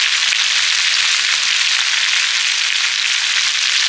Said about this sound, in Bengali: মরিচটা তেলের সাথে হালকা করে ভেজে নিয়েছি